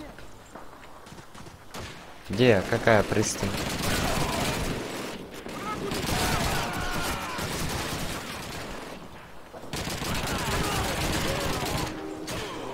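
Rapid rifle and automatic gunfire in the World War II shooter Call of Duty 2, with bursts of shots echoing in repeated waves and voices talking between and over the firing.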